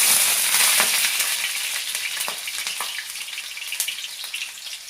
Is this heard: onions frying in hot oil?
yes